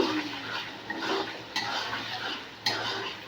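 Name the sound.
stirring spiced egg and masala in a pan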